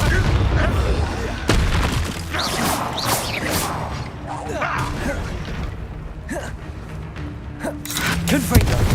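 Confringo blasting spells explode in Hogwarts Legacy amid combat, several sharp booms and crashes in quick succession over dense battle noise, with grunts and gasping voices between the blasts.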